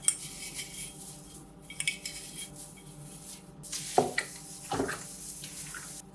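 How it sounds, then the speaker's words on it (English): Dried calendula flowers from two jars go into a pot of water for natural wool dyeing, heard as soft rustling pours and a few clinks of jar against pot, fairly quiet and close. "I'm going to do 2 whole jars of calendula flowers into a pot of water."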